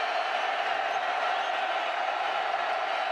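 A football stadium crowd behind the north end zone at an Eastern Washington versus Montana college game produces a steady, broad roar, continuous and distant with no distinct cheers standing out.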